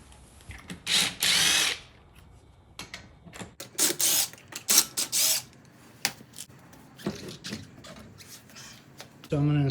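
A power tool, likely an impact driver, zips off lug nuts to remove a Jeep 392 wheel in a sequence of loud, close, short bursts separated by brief pauses.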